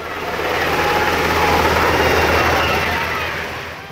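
A helicopter in flight over Oaxaca, a loud, steady whirring rotor and engine roar that holds throughout, with a low throbbing hum beneath and no talk over it.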